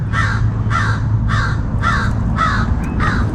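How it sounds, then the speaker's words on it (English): A crow calls six times in steady, evenly spaced harsh caws over a faint low hum at a cemetery, loud and close with no voices. "There's a very talkative bird here today."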